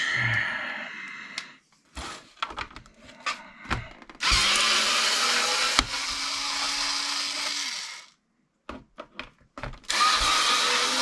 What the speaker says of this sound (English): See if I get lucky enough my drill bit will actually work.